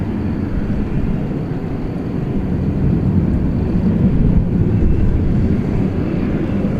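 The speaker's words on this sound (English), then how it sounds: "the plane that just took off was American" An airliner takes off from a DFW Airport runway, producing a loud, steady engine roar that swells slightly midway and holds throughout with no voices.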